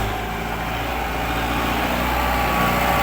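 A steady tractor engine drones continuously with a constant low hum and hiss, running without a break for the whole stretch, no voices.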